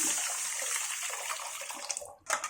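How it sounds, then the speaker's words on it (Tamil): Tamarind water pours steadily into a pot for about two seconds with a broad watery rush, then breaks off and gives a short final splash. "புளி தண்ணி அதை ஊற்றிக்கலாம்"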